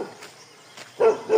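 Several dogs on a steep mountain trail let out short, loud barks near the end, two bursts following a quieter stretch of faint yips and rustling.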